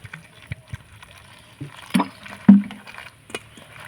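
Puffed rice being rinsed by hand in a bowl of water, with soft sloshing and gurgling splashes that rise in two brief louder swells near the middle, close and otherwise quiet.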